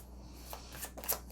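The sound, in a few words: tarot cards being shuffled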